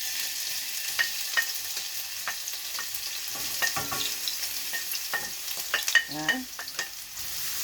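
Onion and garlic fry in a pan for chili garlic shrimp, a soft sizzle broken by scraping and clinking stir strokes, close by, with a brief spoken word near the end.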